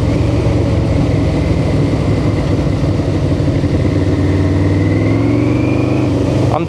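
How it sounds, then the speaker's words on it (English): Yamaha V-Max 1200cc motorcycle engine pulling hard on a ride, a loud, close, continuous growl with rising pitch as it accelerates, heard alone without talk. "Let's get some engine noise."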